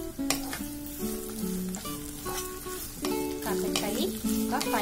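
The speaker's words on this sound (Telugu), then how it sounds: "కాకరకాయ ఒక 5 మినిట్స్ ఫ్రై చేసుకున్నాము" Bitter gourd frying with onions in a pan for a kakarakaya curry: a continuous sizzle broken by repeated metallic stirring clinks and scrapes, close and moderately quiet.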